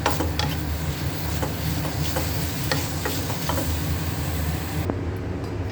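Mushrooms with salt and pepper sautéing in a pan, a continuous loud sizzle with scattered stirring clicks, cutting off abruptly near the end.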